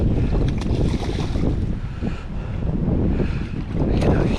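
Strong wind roars across a fishing lake in wet December weather, buffeting the microphone with a loud, continuous rumble that gusts and swells throughout.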